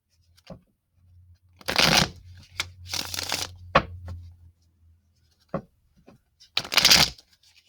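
Several bursts of tarot cards being riffled and shuffled, each lasting a second or so with short pauses between, close and crisp over a faint low hum.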